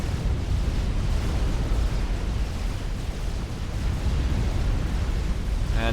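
A base shield collapsing under heavy attack in the real-time strategy game Supreme Commander, a continuous rumbling roar of layered explosions and blasts, loud and dense throughout with no voices.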